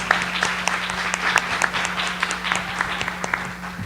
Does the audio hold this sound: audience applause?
yes